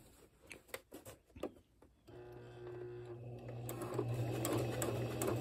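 A sewing machine stitches fabric for shorts cut from long pants, first a few taps and clicks, then a steady close whirring hum that runs continuously and grows slightly louder.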